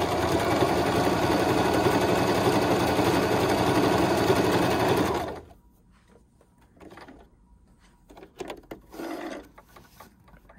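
A Singer Start 1304 sewing machine runs steadily for about five seconds, stitching a scallop pattern, then stops, leaving faint handling clicks and rustles.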